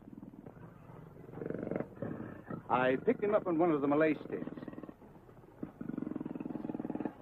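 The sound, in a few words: tame tiger purring and growling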